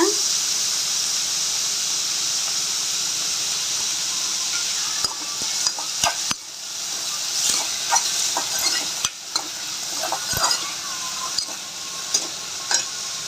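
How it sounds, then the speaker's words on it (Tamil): Cut potato pieces frying in oil for a Tamil-style potato fry, with a steady close sizzle throughout and scraping stirs and clinks from about five seconds onward, no one speaking. "தேவையான அளவு எண்ணெய் சேர்த்து இந்த கட் பண்ணி வச்சுருக்க உருளைக்கிழங்க அதில் சேர்த்துக்குவோம்"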